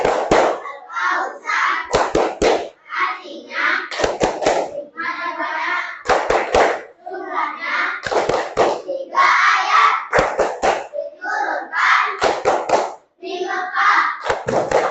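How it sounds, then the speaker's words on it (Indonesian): Children performing the Al-Kautsar clapping chant, with bursts of sharp rhythmic group clapping alternating with chanted voices, loud and close, repeating in a steady pattern. "kita mulai ice breaking yaitu tepuk Al-Kautsar dengan rasa penuh semangat ya"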